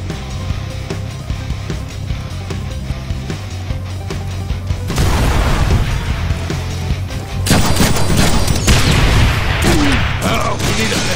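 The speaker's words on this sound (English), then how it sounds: "You have a teleporter to dodge those rocket attacks." Rocket attacks and explosions in the Deadpool video game, a dense run of loud booms and blasts over a low rumbling game score, with heavier bursts in the second half.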